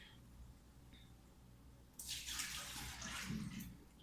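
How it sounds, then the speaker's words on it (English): After a quiet, faint background, water suddenly pours out of a measuring cup in a steady splashing stream for about two seconds, close by. "go ahead and pour the water out of one"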